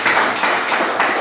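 Schoolroom applause from a class of students after a group presentation, a brief burst of many hands clapping together, fairly loud and close, with slight swells in rhythm.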